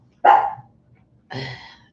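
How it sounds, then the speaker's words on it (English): Two sharp, loud dog barks a second apart, close by indoors, directed at another dog outside. "You don't have to bark at him."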